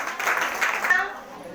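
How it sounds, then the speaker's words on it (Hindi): A church congregation at a Sunday prayer service claps together in a brief burst of applause, with voices heard over the clapping. "परमेश्वर को जोरदार ताली के साथ धन्यवाद देती हूँ"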